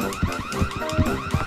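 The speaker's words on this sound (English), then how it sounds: "I hear the alarm." A car alarm in GTA 4 wails in loud, repeating rising-and-falling sweeps close by, cycling steadily with no voices over it.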